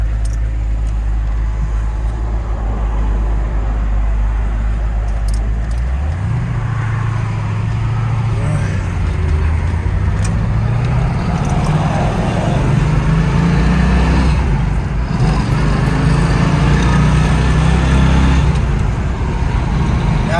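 A 1975 Pontiac Trans Am on the move, its engine a steady loud drone heard from inside the car, with the pitch climbing around a gear change and wind and road rumble throughout.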